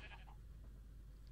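A sheep in the Minecraft game lets out a couple of short, faint bleats against a low hum of background noise.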